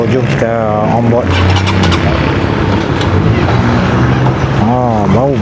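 A Yamaha RS150 motorcycle engine runs with a steady, loud drone as the ride gets underway, with someone talking over it at the start and end.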